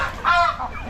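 A native country chicken clucks in a few quick, close, fairly loud bursts, with no voices over it.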